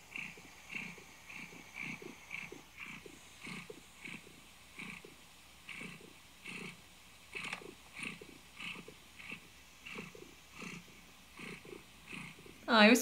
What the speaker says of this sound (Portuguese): eu espero que tenha dado para vocês ouvirem ela ronronando